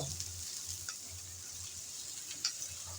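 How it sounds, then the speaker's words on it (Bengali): Chopped onions sizzle steadily in a pan of hot oil while being stirred, a close, continuous frying hiss with occasional scrapes of the spoon. "নেড়ে চেড়ে হালকা ব্রাউন কালার করে পেঁয়াজ ভেজে নেব।"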